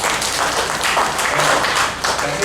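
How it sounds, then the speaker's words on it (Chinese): A church congregation at a Sunday service applauds together, with a dense, even burst of clapping that stays loud and steady for the whole stretch. "我们给耶稣一个掌声"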